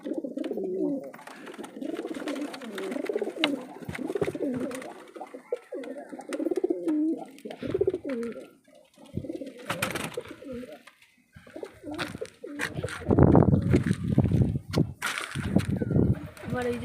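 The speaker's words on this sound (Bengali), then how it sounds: "ওই যে ধরা পায়রাটা" Captive pigeons cooing in a loft, repeated soft throaty coos that come in rolling bursts close by, mixed with wing flaps and occasional sharp rustles, with someone speaking at times.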